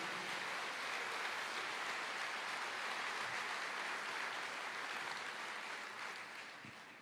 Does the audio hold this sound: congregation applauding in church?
yes